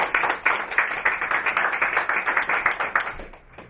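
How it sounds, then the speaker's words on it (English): A meeting audience claps for the next speaker in a steady round of applause, many hands at a brisk even rhythm, fairly loud and close, fading out near the end. "Can we put a round of applause for next, please?"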